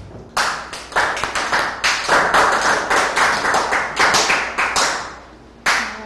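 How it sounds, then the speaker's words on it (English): Classroom applause from a group of students: a burst of dense, close clapping that runs for about five seconds and tapers off, followed by a brief second flurry of claps. "give her a round of applause"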